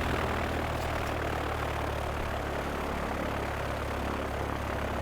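A Junkers F-13 propeller airplane in the Transport Fever 2 simulation game makes a continuous, steady engine and propeller drone at even loudness, with no talk.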